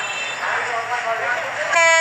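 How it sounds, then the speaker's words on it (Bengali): A commuter train arrives at platform 1 at Jamalpur with a steady rumbling roar. A horn blasts loudly near the end, and a voice talks over the noise. "কমিউটার ট্রেনটা এবং জামালপুর ১ নম্বর প্ল্যাটফর্মে এসে দাঁড়াবে।"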